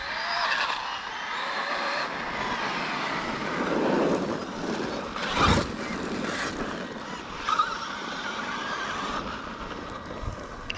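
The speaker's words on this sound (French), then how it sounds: "ah, une voiture." A car passes by outdoors, its broadband road noise swelling and fading over several seconds with a few brief louder bumps, moderately distant and unaccompanied by talk.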